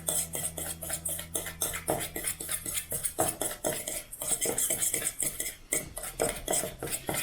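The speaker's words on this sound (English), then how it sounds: "technically it is whisking" A metal utensil scrapes and clinks quickly against a bowl while a dry spice rub for BBQ ribs is whisked, making a busy, continuous rattle up close.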